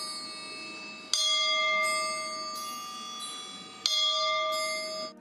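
A bell made by military band musicians from a 152 mm shell casing is struck twice, each loud metallic strike ringing out with a long, bright, sustained shimmer that slowly decays.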